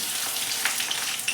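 Chicken pieces deep frying in hot oil give off a dense, continuous crackling sizzle, close and steady, with small pops throughout and no talk.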